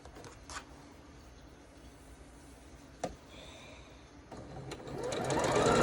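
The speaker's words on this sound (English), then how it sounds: "Okay, so when I sew these together, I'm gonna make that a fatter seam" A sewing machine stitches quilt seams, starting faint and quiet with a few clicks and handling noises, then running louder and steadier toward the end, with no talking.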